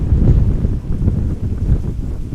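Strong crosswind gusting across an open field beside Amsterdam Schiphol Airport, a loud continuous low rumble battering the microphone with buffeting surges throughout, no voices.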